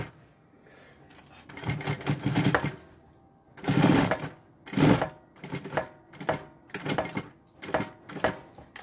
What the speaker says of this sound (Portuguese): Aqui eu tô dando retrocesso no meu tirante